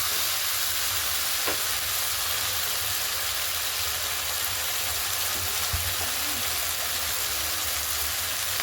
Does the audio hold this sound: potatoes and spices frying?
yes